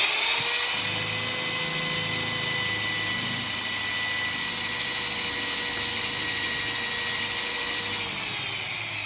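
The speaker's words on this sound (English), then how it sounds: "You drill right through it" A power drill whines steadily and loudly for several seconds as a dull drill bit bores through a wooden 2x4, its pitch holding nearly constant throughout.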